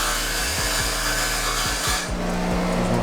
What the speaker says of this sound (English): There's more grinding.